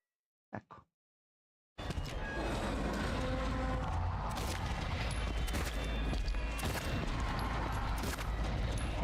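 Rapid, sustained gunfire fills a Silent Hill 2 (2024) game scene, dense and loud for most of the clip after a short burst near the start and a brief silence.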